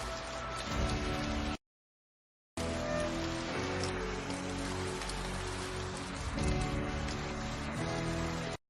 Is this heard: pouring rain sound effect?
yes